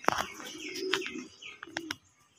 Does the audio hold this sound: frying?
no